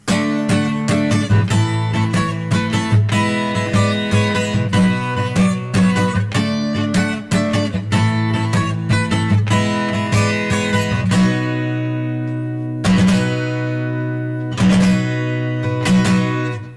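Electric guitar in open E tuning plays a song riff, loud and close: rhythmic chord strums and single-note stabs for about eleven seconds, then a few sparse, ringing chord hits with gaps between.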